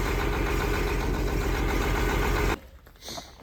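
An old truck engine that sat for 11 years idles roughly and misfires, a loud uneven rumble that cuts off abruptly near the end, followed by faint clatter.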